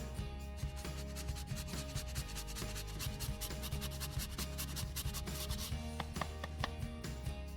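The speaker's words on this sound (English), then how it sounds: "I'm going to grate in 2 inches of ginger" Fresh ginger, about two inches of it, rubbed against a grater while an Indian potluck dish is prepared, giving a steady, close scraping rasp with rapid repeated strokes and no talking.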